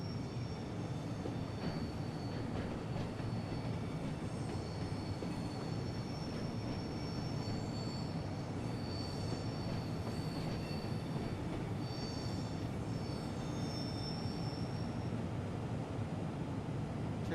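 Train running on tracks in Train Sim World 6: a continuous low rumble of wheels on rails with faint high squeals layered on top, steady throughout with no voices.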